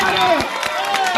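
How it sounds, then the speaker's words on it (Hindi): Crowd at a memorial gathering for a fallen NSG commando clapping for an uncle: a short, dense burst of applause from many hands, fairly close and loud, with voices mixed in. "फूफा के लिए ताली बजा दो एक बार।"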